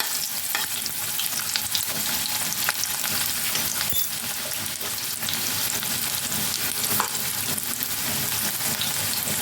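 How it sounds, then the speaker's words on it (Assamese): Chopped onion and green chilies fry in hot mustard oil for a quick breakfast, giving a steady, dense sizzle with faint stirring scrapes, close and continuous with no talking. "লগতে পিঁয়াজটো কুটি লৈছিলোঁ, পিঁয়াজটো দি দিছোঁ।"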